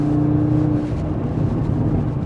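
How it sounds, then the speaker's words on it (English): An Audi RS3's five-cylinder engine pulls hard in first gear, a loud, steady, throaty drone heard close up from inside the car, with no break in the sound. "I do love that 5-cylinder."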